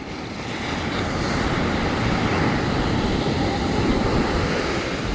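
Sea waves wash up onto a beach in a continuous broad rushing wash, steady and fairly loud, with wind buffeting the microphone and no voices.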